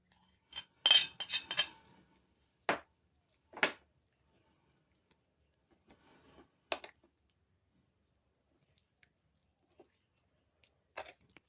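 A utensil mixing chicken in a bowl makes a few sparse clinks and taps, a quick cluster at first, then isolated clicks separated by quiet.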